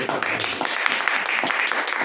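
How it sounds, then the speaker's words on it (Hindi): An audience at a Hindi business presentation breaks into brief applause, a short burst of dense clapping mixed with a little voice. "एक बार ताली बनती है।"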